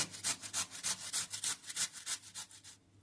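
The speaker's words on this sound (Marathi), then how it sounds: "ही काकडी किसून घेतली।" Cucumber being grated on a small grater, a quick rhythmic series of about a dozen scraping strokes, close and fairly loud, stopping just before the end.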